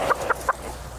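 A buff cochin chicken clucks three short, evenly spaced times close by, with quiet background between the calls.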